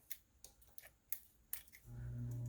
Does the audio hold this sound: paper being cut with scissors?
yes